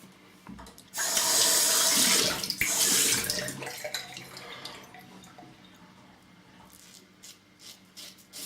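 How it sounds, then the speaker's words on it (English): Water gushes loudly from a sink tap for a couple of seconds, then thins to a trickle and scattered drips and splashes, close by. "Okay, I'll turn the tap right down to cold now"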